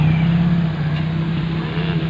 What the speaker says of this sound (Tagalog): Napakarami ng sasakyan na talaga dito sa atin,